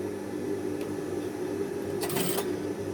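A sewing machine topstitches the folded placket on a men's shirt cuff opening, giving a steady close mechanical whir throughout, with a brief brighter burst of rattling stitching near the end.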